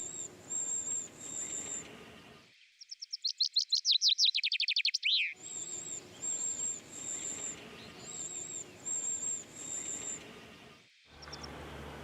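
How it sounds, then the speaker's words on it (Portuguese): A Eurasian wren calls near its moss-ball nest holding chicks, with repeated high, bright chirps and a fast rattling trill. Bursts come in short groups separated by brief pauses, fairly close and clear. "A carriça, a terceira ave mais pequena da Europa, tem crias para cuidar."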